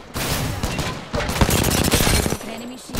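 Rapid bursts of automatic gunfire in the shooter Apex Legends, loud and dense, with a brief gap before the firing resumes, and game voice chatter faintly mixed in.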